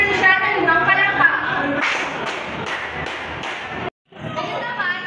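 A classroom of children claps five times in quick, even unison, sharp bursts following lively talk and young voices, with a brief silence afterward before chatter resumes.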